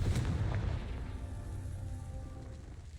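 The Confringo fire spell in Hogwarts Legacy goes off as a deep booming explosion that hits at the start and then rumbles away over a few seconds, faint and low.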